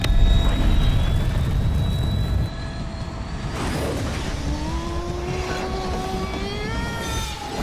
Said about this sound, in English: Number 2, Iron Man's first flight.